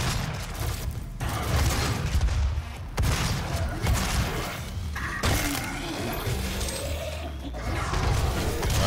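Gunfire and combat noise in DOOM, repeated heavy shots and thuds in uneven bursts with short gaps, loud and dense with mechanical game effects layered in.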